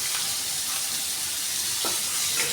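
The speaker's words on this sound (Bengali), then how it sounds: "এরকম সময় আমি আলুগুলো ছেড়ে দিচ্ছি।" Long-cut potatoes frying in oil with cumin, dried chili and bay leaf, producing a dense, bright, steady sizzle close by with a couple of faint stirring scrapes.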